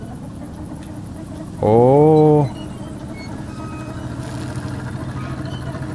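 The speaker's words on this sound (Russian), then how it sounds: "Фига себе, звук изменился как. Теперь у нас настоящий трактор" The tractor-like engine of a vehicle built in the video game Trailmakers drones low and steady throughout, while a voice exclaims briefly over it and then talks.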